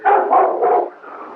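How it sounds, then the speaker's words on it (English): A big black dog barks three times in close succession, loud and near, then a fainter trailing whine follows. "That was the big black dog. The one that barks 3 times when somebody dies."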